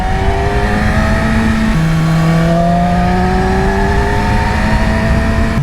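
A 2020 Yamaha R6 600cc sport bike on a twisty mountain road, its engine droning steadily and loud, the pitch shifting as the throttle changes and gears drop, with no voices over it.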